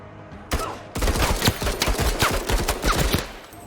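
Rapid bursts of machine gun fire in the MENACE video game, dense overlapping shots and rattling volleys, loud and close, continuing steadily for a few seconds after a brief quiet start.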